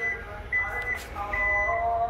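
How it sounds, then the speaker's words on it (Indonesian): The electric tailgate of a 2021 Toyota Vellfire G facelift (AH30) closes while sounding short electronic beeps, thin repeated tones over a low motor hum and faint clunks, close by and modest in level. "dengan bunyi bip."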